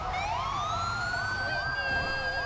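A fire truck's ladder siren in GTA 5 wails loud and close, rising at first and then settling into a steady undulating tone over a low engine rumble.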